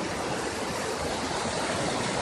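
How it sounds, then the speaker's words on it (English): A river in the Smoky Mountains rushes in a steady, broadband wash of flowing water that fills the whole stretch at an even level, with no voices. "some river in the Smoky Mountains."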